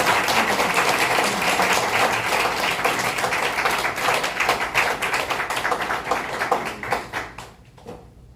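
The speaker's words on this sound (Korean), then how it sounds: "여러분 솔리데우에 아주 힘찬 박수로 환영해 주시면 감사하겠습니다" A church congregation applauds to welcome a pastor, loud sustained clapping from many hands that thins into scattered individual claps and fades out near the end.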